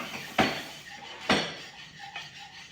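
A spoon clanks against a pot of KC-style BBQ sauce while it is mixed, two sharp metallic knocks followed by a softer third, close and fairly quiet with no talking.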